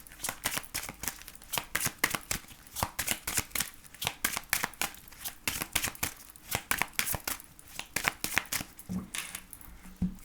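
Tarot cards are shuffled for a reading, a rapid run of crisp riffling and slapping card sounds in irregular bursts, close and clear with no talking.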